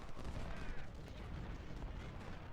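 Artillery fire in a Civil War strategy game, Confederate side at Washington, heard as a continuous rumbling barrage of booms and crackling gunfire, dense and distant-sounding at a low level.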